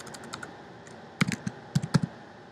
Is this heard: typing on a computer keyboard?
yes